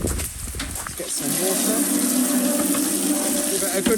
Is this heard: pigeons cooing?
no